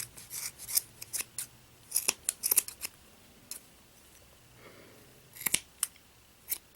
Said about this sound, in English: So now I'm just going to trim this up just a little bit.